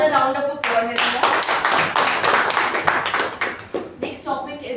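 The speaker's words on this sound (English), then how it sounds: "Let's give him another round of applause" Another round of applause at a Toastmasters meeting, a burst of close, lively clapping from a small audience that starts abruptly, with a voice speaking before and after it.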